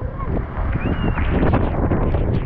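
Strong typhoon wind roars steadily against the microphone during a storm that knocked out the power, a dense, continuous buffeting rush with gusty surges throughout.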